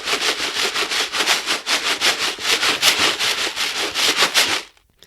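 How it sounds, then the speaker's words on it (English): Plastic beads rattle inside a container shaken like maracas, a steady rapid rhythm of close, bright swishing pulses for about four and a half seconds before stopping abruptly. "I found a container of plastic beads on my sewing table, and they kind of sound like maracas"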